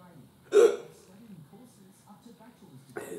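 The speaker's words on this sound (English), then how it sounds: "There's the hiccups." A single sharp hiccup bursts out from someone eating an extra hot Fire Dragon chilli sauce, loud and close, followed by quiet breathing and a faint voice.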